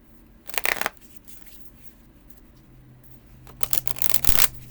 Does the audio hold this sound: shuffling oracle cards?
yes